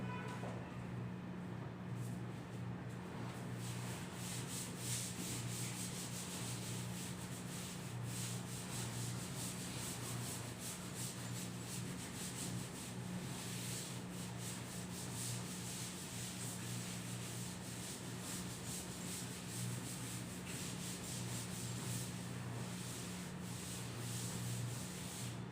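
Writing is rubbed off a classroom board with a steady, soft scrubbing hiss that continues without a break, close up and fairly quiet.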